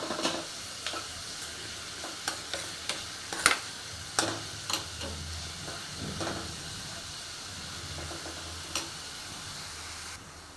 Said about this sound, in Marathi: कांदा आता व्यवस्थित भाजून झाले.